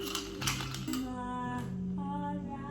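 Metal bar spoon clinking against a glass while stirring a vodka dirty martini with olive juice at a home bar, a steady series of light ringing taps and chimes up close, with music playing underneath.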